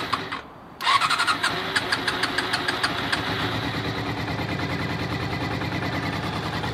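A Honda CBR400 motorcycle engine, slow to start, cranks briefly and then catches into a loud, close, rhythmic idle that keeps running steadily.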